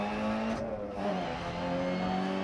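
MINI Cooper S rally car in DiRT Rally on the Monte-Carlo stage, engine held at full throttle with a brief dip and tire noise midway, loud and steady.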